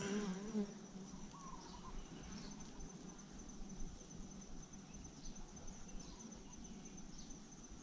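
Bees buzzing around an open beehive while a second honey super is being added, a dense continuous hum of many insects, fairly quiet and close, with no talk.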